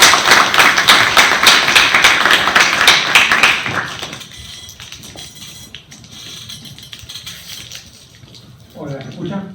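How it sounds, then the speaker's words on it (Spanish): Lively applause greets a lecturer arriving for a conference talk, loud clapping from an audience for about four seconds, then a quieter room with shuffling, and a voice speaking at the end. "Te recibimos con un aplauso"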